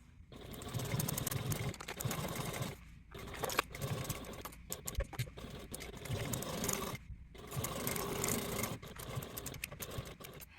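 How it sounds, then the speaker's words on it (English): A sewing machine stitches the side edges of a fabric handbag at a 3/8 seam allowance, running in steady bursts with brief pauses between passes, close and fairly quiet. "Now take this to the machine and sew your side edges at a 3/8 seam allowance"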